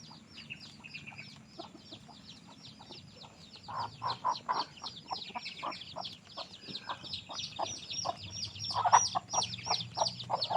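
Many chickens clucking and chirping in an irregular chorus, growing busier and louder midway, with soft background noise.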